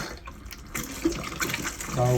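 A caravan shower tap in a 2010 Swift Challenger 570 running steadily, a continuous close hiss of flowing water with a voice talking over it.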